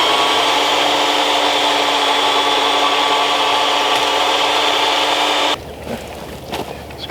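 A scraper rasps hair off the skin of a freshly slaughtered hog on a homestead, a loud, continuous rough scraping close up that stops abruptly near the end, leaving quieter handling noises.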